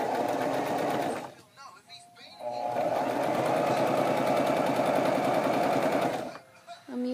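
A sewing machine stitches a boy's necktie in two steady runs, a fast close whirring chatter that pauses briefly for a backstitch before resuming, while a voice speaks over it.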